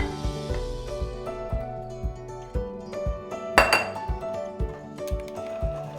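Dry ingredients go into brown butter sugar cookie dough, with repeated ringing clinks of utensil against a bowl in an irregular tapping rhythm, close and clear with no talking.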